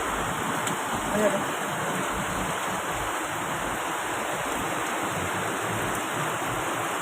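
Typhoon Carina floodwater, running off the mountain in Burgos, Montalban during heavy rain, makes a constant rushing roar at an even level, and someone speaks briefly over it near the start.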